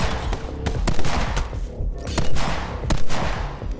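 Sniper rifle gunfire in the video game My Friend Pedro: repeated loud, close shots crack at irregular intervals over a dense bed of game noise and impacts.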